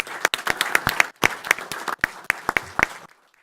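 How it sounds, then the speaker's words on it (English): A small audience at a board meeting applauds a third grade student, sparse, distinct hand claps from nearby people that stop abruptly after about three seconds. "Let's give her a big round of applause."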